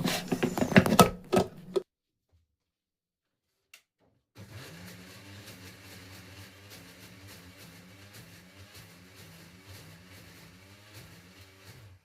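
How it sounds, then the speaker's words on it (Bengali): Mixer grinder running with green chillies, ginger and cumin inside, a steady close whirring and rattling grind that starts after a short silence and continues alone to the end, preceded by a few knocks. "মিক্সিতে বেটে নেব"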